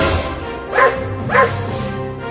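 A dog barks twice in a domestic comedy scene, two sharp bow-wow barks about half a second apart over a steady background hum, with no talking.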